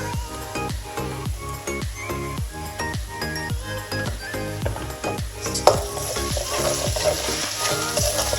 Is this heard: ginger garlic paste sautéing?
yes